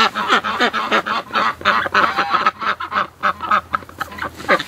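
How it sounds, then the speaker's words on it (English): Ducks and geese honking and quacking in a winter enclosure in bitter cold, a dense, close chorus of overlapping calls in rapid bursts, with no talk. "Look at this, the poor ducks."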